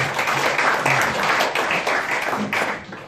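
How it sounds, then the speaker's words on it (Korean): Dense applause from an audience at a year-end gathering of a Korean unification leaders' association, a steady wash of many hands clapping close and loud throughout. "박수 한번 해주십시오."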